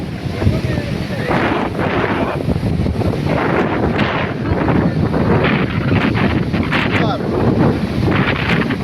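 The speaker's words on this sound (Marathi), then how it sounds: "हे बघा लाटा बिटा बघा मस्त कशा" Sea waves surge and break along a shoreline in loud, repeated washes, with heavy wind buffeting the microphone over the rushing surf.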